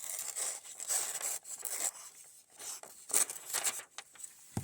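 An Ozark Trail knife slices through newsprint in a run of short, dry tearing and rasping strokes with brief pauses between them, close and fairly quiet, with no talking.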